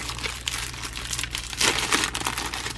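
A keyboard cover being fitted onto a 2020 MacBook Pro, giving close, steady crinkling and rustling of thin plastic with a few louder crunches partway through.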